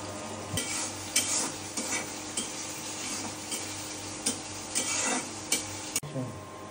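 Dried chilies and onion stir-fried in mustard oil in a pan, with steady sizzling under repeated scraping strokes of a spatula and light metallic clinks against the pot.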